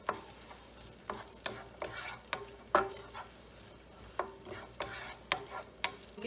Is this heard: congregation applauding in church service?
no